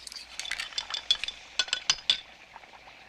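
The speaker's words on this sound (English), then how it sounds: "Stir it." A spoon stirs foaming tea in a cup, tapping and clinking against the sides in a quick irregular series of bright metallic chinks that fade toward the end, with no voices.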